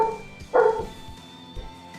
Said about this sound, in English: I hear the barking